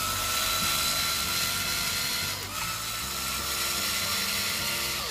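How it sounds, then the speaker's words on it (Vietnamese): A Black & Decker Roto Bit mini electric screwdriver runs continuously, a loud steady whirring motor with stepped gear-like buzzing changes in pitch, close up with no speech. "Để mình mở mấy cái máy khoan á, bắt vô test thử luôn nha"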